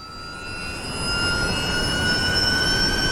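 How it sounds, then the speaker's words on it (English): High steady whine of regenerative braking on an electric race car in iRacing, several thin tones rising slowly over a broad road and motor rush that swells after the first second. "You can hear the all the regens obviously working under braking."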